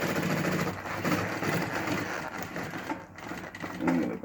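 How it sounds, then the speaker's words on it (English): A sewing machine stitches through wire mesh in a steady, dense mechanical whir that runs the whole time, with a faint voice low underneath. "sewing it like a charm"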